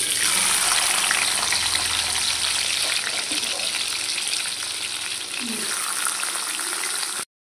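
Onions frying in hot oil with cumin seeds, a steady loud sizzle with broad hiss that holds throughout before cutting off abruptly at the end.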